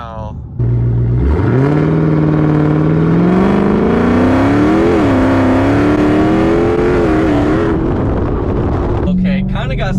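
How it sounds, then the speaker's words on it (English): A car launches in second gear on Mickey Thompson ET Street tires, its engine revving hard and rising in pitch over several seconds before easing off, loud and close. "Definitely had to pedal it in second gear to get to third, and then it finally took off"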